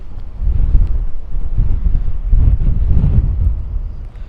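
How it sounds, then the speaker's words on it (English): Strong gusts of wind buffet a microphone outdoors beside a stadium stand under construction, a loud continuous low rumble that swells and eases with no speech. "the wind's getting worse"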